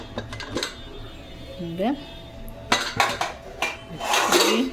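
A pressure cooker lid is opened after cooking beef paaya, giving close metallic clanks and scraping clinks of pot and lid, with a brief hiss and a voice speaking between the knocks.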